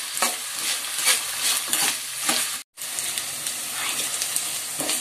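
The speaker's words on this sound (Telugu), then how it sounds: "వీటిని ద్వారగా వేసేదాకా గోల్డెన్ కలర్ వచ్చేలాగా వేద్దాం" Onions fry in a pan, a dense bright sizzle with regular stirring scrapes, loud and close, briefly cutting out for a moment before the hiss resumes.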